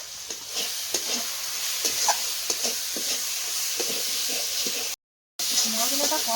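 Spice masala sautés in a pan with hot water and salt added while cooking duck meat, steady sizzling hiss under intermittent stirring scrapes, with a short gap of silence near the end.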